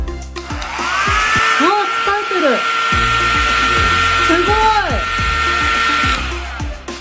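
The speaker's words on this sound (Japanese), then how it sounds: "700W のパナソニックのドライヤーになります。" A 700W Panasonic hair dryer powered by a portable lithium iron phosphate power station blows with a steady, loud whoosh and motor whine for the whole stretch, while a person talks over it.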